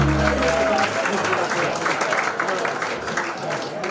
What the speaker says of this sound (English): You give her a big round of applause, ladies and gentlemen.